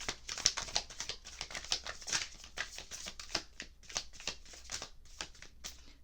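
Tarot cards are shuffled by small hands in a quick run of crisp riffling flicks and soft papery slaps, close and steady, with no speech.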